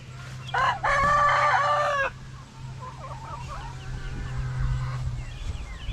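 A rooster crows loudly and close by, one long call, followed by softer clucking from chickens in a backyard under steady low background hum.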